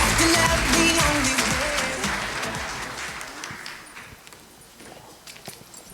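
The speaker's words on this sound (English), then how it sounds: "Let's all give him a warm round of applause." An audience applauds as a speaker comes to the stage for a plenary talk on character education, clapping loud at first and then thinning and fading away over a few seconds.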